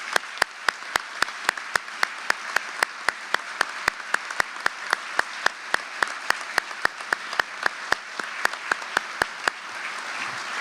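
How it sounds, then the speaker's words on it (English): Sustained applause from an audience at a police department awards ceremony honoring award recipients, with sharp clap peaks in steady succession over a bed of crowd clapping throughout. "Would everyone please join me with one final applause for all of our award recipients this evening."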